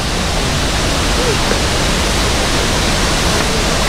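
Hulugan Falls in Laguna, a waterfall about 285 feet tall, gives a loud, unbroken broadband roar of falling water that stays constant throughout and fills the whole scene.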